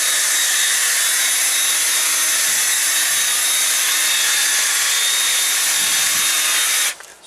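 A power drill with a brush attachment whirs steadily at slow speed while scrubbing a car carpet pulled from a 1991 GMC Jimmy, a loud continuous whine with brushing hiss that cuts off abruptly at the end.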